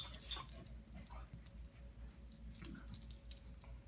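A dog plays indoors and whimpers softly, with thin high whines, scuffling movement and a quiet low hum running underneath.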